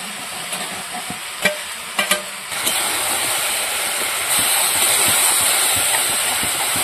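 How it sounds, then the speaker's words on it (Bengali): Fried crabs drop into a hot pan for a sour crab curry, a few sharp knocks and stirs giving way to loud, steady sizzling that swells and holds; no voices. "এবার ভেজে রাখা কাঁকড়াগুলো দিয়ে দেবো।"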